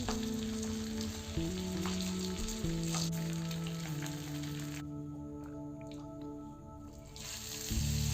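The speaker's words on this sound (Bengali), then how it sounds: "ডিমগুলোকে খুব সাবধানে উল্টে দিয়ে আরও একবার ভেজে নামিয়ে নিতে হবে" Eggs fry in oil in a pan with a soft, steady sizzle that runs under low tonal background hum and drops out briefly before picking up again.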